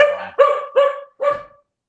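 Four close, loud barks from a dog in quick succession, each short and sharp, then quiet for the last half second.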